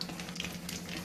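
Cumin seeds and leaves fry in hot oil, with a steady close sizzle and crackle for a brief moment and no talking.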